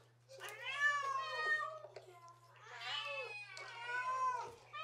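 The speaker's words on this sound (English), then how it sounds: "There's a bunch of cats that we recorded." Several recorded cats meow and caterwaul in long, wavering calls, two bursts of close, fairly loud meowing separated by a short pause, with a steady low hum underneath.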